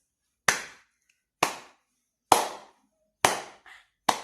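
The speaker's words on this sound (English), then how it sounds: "people would clap for you like this." Slow hand claps demonstrated by a single person, five sharp isolated claps spaced about a second apart, close and clear with silence between them.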